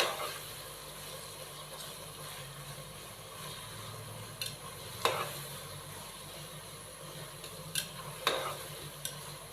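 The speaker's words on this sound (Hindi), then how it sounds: "खड़े मसालों को शामिल करने के बाद हम इसको अच्छे से मिक्स कर देंगे" Cumin seeds and whole black peppercorns crackle in hot oil for a chicken matar pulao, a soft continuous sizzle broken by a few sharp spoon scrapes and taps against the pot.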